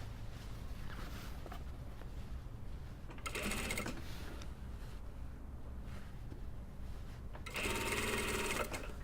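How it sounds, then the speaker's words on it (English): A sewing machine stitching a collar onto the body of a lined jacket, running in two steady whirring bursts of about a second each. A low continuous background hum fills the pauses between them. "So what I usually do is just sew to the collar"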